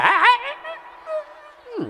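A dog gives a short high yelp that slides into a drawn-out whining whimper, close and clear, lasting under two seconds.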